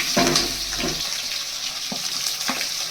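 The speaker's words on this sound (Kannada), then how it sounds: "ಈರುಳ್ಳಿ ಹಾಕ್ಕೊಂಡು ಕೂಡ ಫ್ರೈ ಮಾಡ್ಕೊತಾ ಇದ್ದೀನಿ" Onions and green chillies frying in a pan for vegetable upma give a steady hiss with a few sharper crackles and stirring knocks, fairly close and loud.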